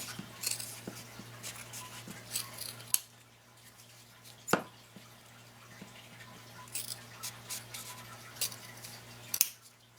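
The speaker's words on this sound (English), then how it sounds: "I cut through all the layers, but you stop before you get to cutting it all the way through." Scissors snipping through several stacked layers of fabric for a no-sew 3D snowflake: a few faint, crisp cuts and clicks spaced apart over a quiet room background.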